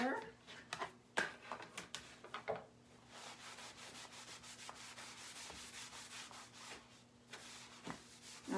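Wax is buffed by hand onto a wooden board, making a soft, steady rubbing swish that runs through the middle of the clip. Sharper scuffs and a quiet voice come at the start.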